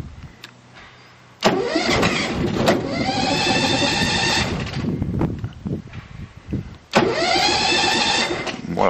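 An engine cranks and fires up twice, each start followed by a short stretch of running before it cuts out, with some handling noises in between.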